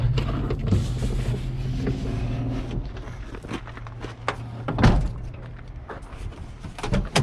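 Doors on a Toyota Hilux LN106 competition truck are opened and shut in a workshop, giving several dull thunks and latch clunks spread over a few seconds against a low background hum.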